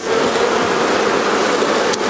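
Honey bees swarm over a frame pulled from the centre of a hive during a spring check. Their dense, continuous buzz is loud and close throughout, with no voices over it.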